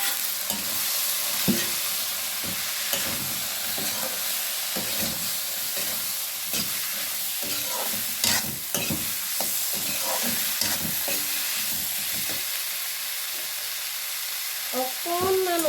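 Peas and potatoes fry in a pan for an egg and pea curry, with a steady close sizzle and repeated clattering scrapes of a stirring utensil throughout.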